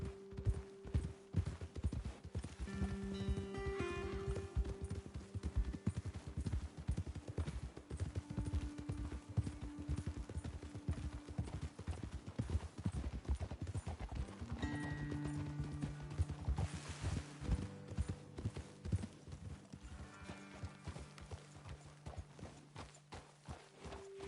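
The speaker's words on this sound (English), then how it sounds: "Okay, let's dismount here. Best leave the horses back a bit." Horses clip-clop steadily at a walk on a trail in the video game Red Dead Redemption 2, the hoofbeats close and rhythmic under faint game music, with a brief whinny.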